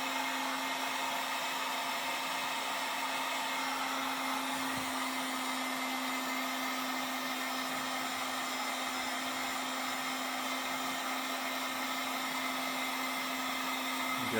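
Heat tool blowing hot air onto wrinkly wrap during engine harness work, a continuous steady whir with a constant hum, close and unbroken throughout.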